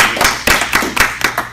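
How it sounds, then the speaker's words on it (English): An audience claps for a man stepping up to speak at a talk on lowering blood sugar and reversing type 2 diabetes. The applause is steady and fairly loud, with individual sharp claps standing out, and nobody speaks over it. "So go, this Dennis, give him a round of applause."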